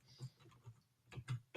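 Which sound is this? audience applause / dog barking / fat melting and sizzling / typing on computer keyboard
typing on computer keyboard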